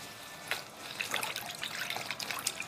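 Water runs and splashes into a basin for dissolving fabric softener before hand-washing clothes, a steady close trickle with small splashes and no talk.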